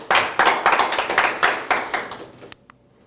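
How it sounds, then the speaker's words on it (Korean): An audience at a Korean lecture on character education gives a short burst of applause, a handful of people clapping close by before it quickly fades to a couple of stray claps. "공감하시면 박수 한번 부탁드리겠습니다."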